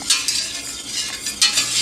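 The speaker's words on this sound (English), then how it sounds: "Just keep stirring it, and we're going to do that until it simmers." A utensil stirring goat milk in a pan on low heat, brief scraping swishes in two bursts, close and fairly clear, no voices.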